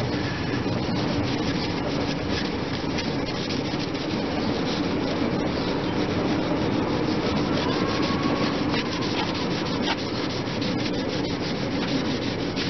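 Polishing paste is rubbed by hand onto a rusty motorcycle exhaust: a steady, close scrubbing hiss that runs without a break, with no talking.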